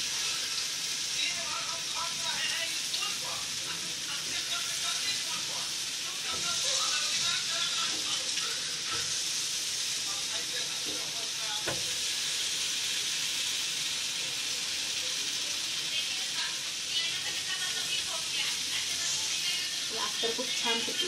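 Food frying in oil, a steady close hiss and crackle of sizzling that continues throughout with occasional pops, while people talk over it.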